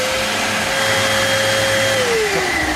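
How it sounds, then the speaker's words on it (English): A Hoover vacuum cleaner runs steadily and loudly throughout, its motor whine holding one pitch before dropping slightly near the end. "Death Trap Hoover."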